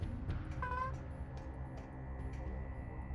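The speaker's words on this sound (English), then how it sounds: "You can maybe hear my cat meowing pathetically in the distance" A house cat gives a single thin, drawn-out meow from a distance, faint and brief, over a low indoor hum and soft background noise.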